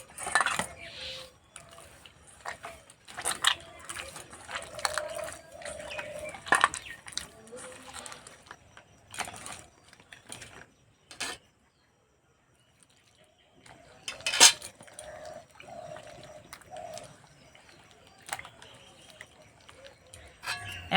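Semolina dough being kneaded by hand with milk, soft squelching, pressing and occasional bowl clinks in irregular bursts, with a quiet pause midway.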